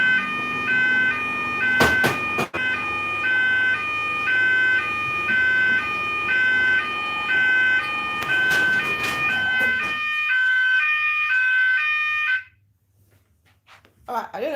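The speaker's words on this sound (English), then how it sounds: "The alarm keeps coming off and going off." Indoor alarm going off in pulsing, two-tone electronic beeps that repeat loudly for about twelve seconds, then cut to near silence, with a voice briefly audible.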